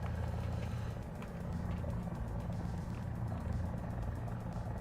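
An enemy helicopter in the War Thunder air and ground simulation, a low, droning engine rumble with faint rotor pulsing that holds steady and fairly quiet throughout.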